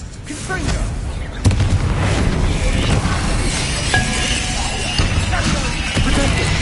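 Confringo blasting-spell explosions in Hogwarts Legacy crack and boom in quick succession amid dense, loud combat noise with shattering debris and continuous clatter, alone without talk.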